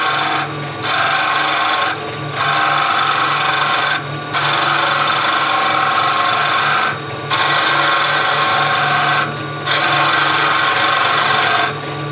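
Skew chisel cutting a wooden top spinning on a lathe, a steady scraping rasp in five long passes separated by brief pauses, close and loud with no talking.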